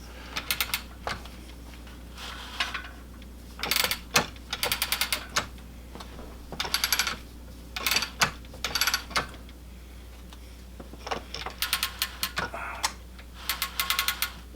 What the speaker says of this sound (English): I need to adjust that metal rod so I don't bump into the edges here